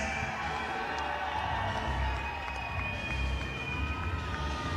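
Fans at the Bassmaster Classic weigh-in cheer and shout in a steady, dense crowd roar that stays loud throughout, with a few whistles cutting through.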